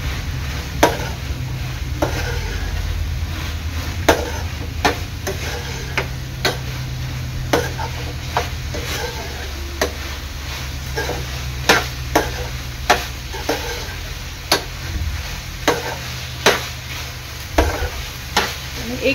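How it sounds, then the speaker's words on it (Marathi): A spoon stirs fried prawns in a pan for chilli prawns, with steady sizzling underneath and regular sharp scrapes and taps against the metal. "तर ह्यामध्ये टाकते मी आपले तळलेले प्रॉन्स. चांगलं मिक्स करून घ्यायचं आहे."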